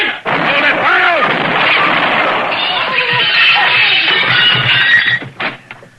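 A gunshot in an old-time radio western drama: a tight burst of loud reports with a sharp crack and a short tail, amid shouting voices in a close, dry radio-play setting.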